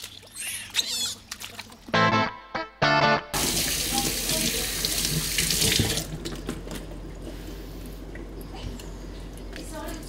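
Water runs from a tap in bursts and then streams steadily while otter pups are washed with Betadine soap, with voices talking over it.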